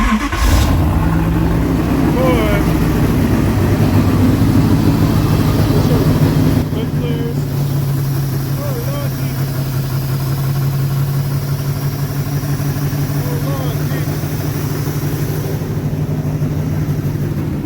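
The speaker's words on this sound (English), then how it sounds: "Look how easy it cranks over." An LS V8 swapped into a Nissan 300ZX Z31 cranks and fires up with a sudden burst, then settles into a loud, steady, deep idle that runs close and continuously, with a voice speaking faintly over it at times.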